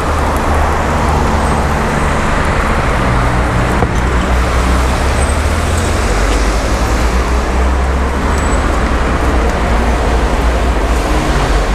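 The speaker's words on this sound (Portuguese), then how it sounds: "Terminal de ônibus Piraporinha." Road traffic streams steadily past the Piraporinha bus terminal in Diadema, São Paulo, as a loud, continuous rumble and hiss of cars and buses with no pauses and no voices.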